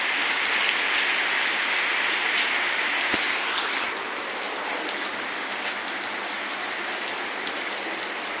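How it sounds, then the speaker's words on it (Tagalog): Heavy rain pours steadily outside in a continuous dense hiss that eases slightly partway through, with no talking. "Tuloy-tuloy pa rin yung buhos ng ulan."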